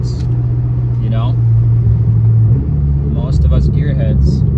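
A BMW F10 M5 with Turner muffler deletes pulls hard in second gear, its deep droning exhaust note loud and sustained, while someone talks over the start and the end.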